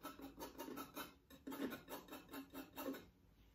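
Palette knife scraping across paint on a landscape painting, a faint, close series of rhythmic rasping strokes, about a dozen in quick succession, with no talking.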